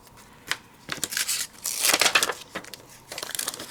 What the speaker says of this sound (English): cut out our little Santa